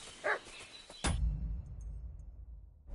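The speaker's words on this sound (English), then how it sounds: "What's that dog making such a fuss about?" A dog in the video game Kingdom Come Deliverance 2 gives a short bark, followed by a sharp louder burst and then a low rumbling ambience.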